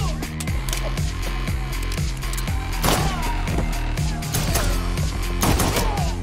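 Rapid gunfire from a John Wick film fight scene, sharp repeated shots layered over loud driving music and heavy bass, dense and continuous.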